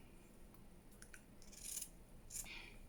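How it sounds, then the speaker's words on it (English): Scissors snip through burlap for junk journal crafting, a few faint, quiet crisp cuts close by against a hushed room. "I'll just cut a bit of burlap, a bit of this linen."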